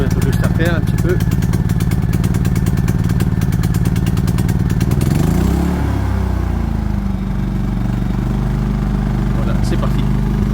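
A Champion dual-fuel propane/petrol 3500W generator runs loudly with a fast pulsing engine beat, then shifts to a steadier, smoother hum as the choke is eased off, while someone speaks over the noise.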